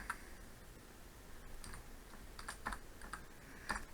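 Close typing on a computer keyboard while writing program code, with soft irregular key clicks in short bursts separated by brief pauses and no talk.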